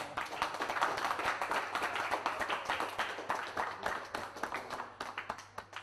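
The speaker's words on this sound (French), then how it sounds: "On les applaudit bien fort" A small audience at an overclocking competition applauds the competitors, with loud, close, irregular hand claps in a brisk patter that thins toward the end.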